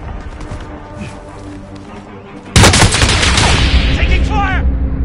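Gunfire erupts in Call of Duty Warzone: after a quieter stretch of background game noise, a sudden loud burst of shots and explosions hits hard and keeps rumbling and crackling close by to the end.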